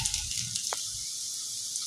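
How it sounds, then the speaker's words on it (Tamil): Onions sautéing in oil with ginger garlic paste for a mutton keema and potato gravy give a soft, steady sizzle that hisses evenly throughout, with no voices. "எண்ணெயில் வெங்காயத்தை நல்லா வதக்கிக்கலாம்."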